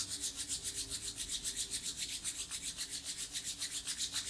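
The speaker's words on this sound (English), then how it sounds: "bringing the palms of your hands together, rubbing those palms, creating some heat." Palms of the hands rubbed briskly together during a Kundalini yoga set, a steady rhythmic swishing friction with about four strokes per second, close and continuous with no talking.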